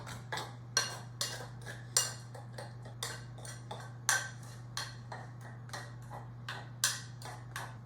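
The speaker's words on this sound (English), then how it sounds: "Then combine those ingredients and you'll have your sauce." A utensil scrapes and taps around a bowl as mustard, ginger and maple sauce ingredients are mixed, making a rhythmic series of close, clinking strokes over a steady low hum.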